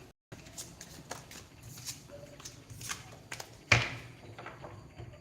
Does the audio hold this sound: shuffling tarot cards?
yes